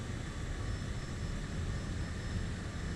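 Small aircraft engine in Microsoft Flight Simulator 2020, a steady broadband drone with strong low rumble that stays even and continuous throughout, with no talk over it.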